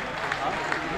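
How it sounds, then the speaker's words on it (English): A football crowd at South Shields versus Banbury United applauds the attendance announcement, a steady, distant wash of clapping spread across the stands, with no clear individual claps standing out. "the applause there was for the attendance being announced"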